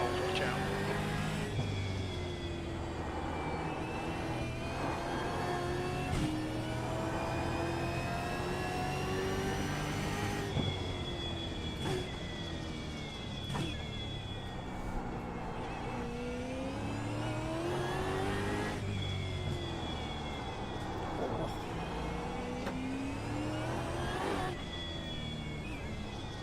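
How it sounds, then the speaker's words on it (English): A V8 Supercar engine in iRacing on the Adelaide street circuit revs up and down through gear changes, sustained and loud, with someone talking over it throughout. "So it's an Australian track. V8 supercar track, hence I'm driving the V8 supercar."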